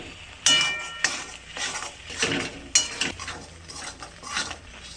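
Spices are stirred and sautéed in a pan for a colocasia-leaf curry with chickpeas and peanuts, a spoon scraping and clinking against the metal in repeated strokes over a soft background sizzle, close and fairly clear.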